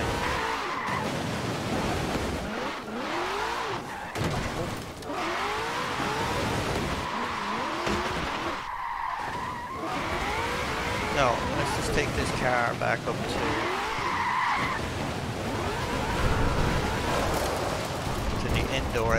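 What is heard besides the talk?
1968 Mustang GT drifting through snow, Forza Horizon 4 video game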